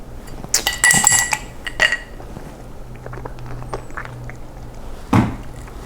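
An ice cube clinks against a glass of water in a few bright, short taps, followed by quieter handling noise and one more clink near the end, with no talk.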